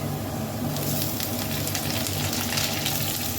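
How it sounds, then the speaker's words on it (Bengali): Potatoes and chopped onion frying in a pan, giving a steady, close hiss of sizzling oil with a low background hum throughout and no talking. "আলুটা লাল করে ভাজা হয়ে গেছে। এবারে এর মধ্যে আমি দিয়ে দেবো কুচনো পেঁয়াজ।"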